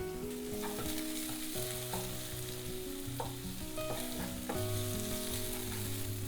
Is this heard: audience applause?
no